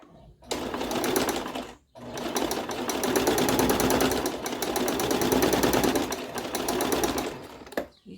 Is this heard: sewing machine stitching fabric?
yes